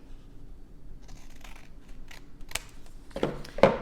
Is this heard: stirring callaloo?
no